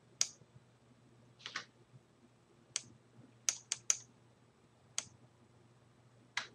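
Computer keyboard keys are pressed in a quiet room: about nine sharp, isolated clicks spaced irregularly, some in quick pairs, close and distinct over a faint low hum.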